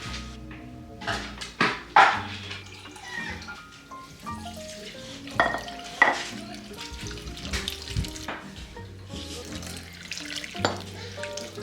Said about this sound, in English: the next step is to just pour your filtered water just until it's covered